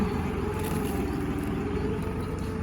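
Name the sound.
tractor straining while pushing a big log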